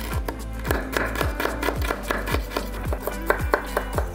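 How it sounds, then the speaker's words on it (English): A knife slices through a fresh piece of ginger on a cutting board in a steady run of crisp chops, roughly two or three strokes per second, close and clear with no talk. "So just slicing this straight across, and that's as fine as we want it."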